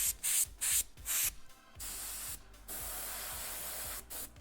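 An airbrush spraying paint onto a custom-painted hoodie, first in several short hissing bursts, then one long steady spray with brief pauses, close and fairly quiet.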